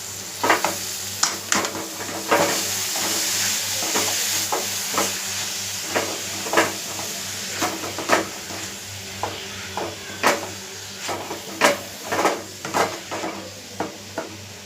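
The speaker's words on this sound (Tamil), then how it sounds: "இப்போ இதை நல்லா நம்ம மிக்ஸ் பண்ணி விட்டுக்கலாம்." Grated beetroot and curry being stirred in a pan, a steady sizzle underneath with repeated sharp scrapes and clinks of the spoon against the pan, no voices.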